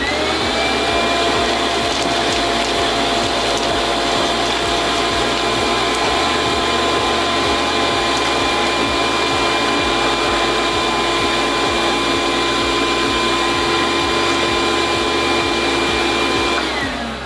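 A shop vacuum fitted with an Oneida Dust Deputy 2.5 Deluxe cyclone runs steadily and loudly, a constant whining roar with a sustained tonal hum, close and unbroken throughout.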